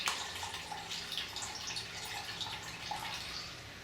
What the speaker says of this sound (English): There's quite a lot of liquid coming out there.